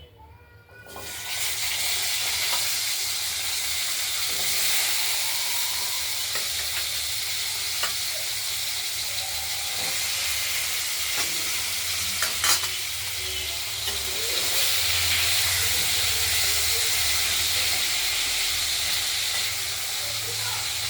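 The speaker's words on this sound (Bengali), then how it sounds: "আলুগুলো ভাজা হতে থাকুক" Cut potatoes frying in a pan of fried spice paste for a spicy potato and pointed gourd curry, giving a steady, close sizzle with a brief stir or scrape now and then and no talking.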